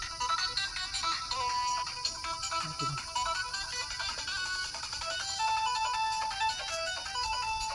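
A mobile phone ringtone plays a song, a tinny melody going on and on at moderate volume.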